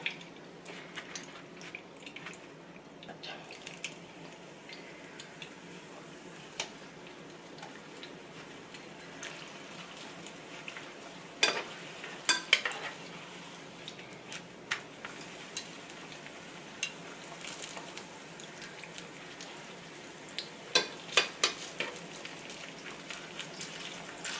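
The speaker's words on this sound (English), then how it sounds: "now that the oil is heated up, we're going to go ahead and just add our tortillas" Tortillas warm in hot frying oil, producing a faint, steady crackling sizzle with occasional louder pops and spatters heard close by for over twenty seconds, with no talking.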